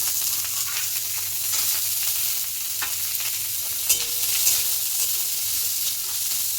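Raw chickpeas sizzle loudly as they hit a ginger and cumin paste in a hot pan for a vegetarian bottle gourd dish, a dense steady frying hiss with occasional sharp crackles and utensil scrapes.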